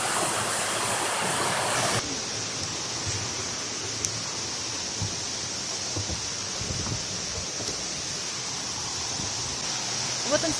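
A broad, steady rush of falling water from the Millomeris waterfall in the Troodos mountains of Cyprus fills the scene, constant and fairly loud, with faint voices and small clicks underneath.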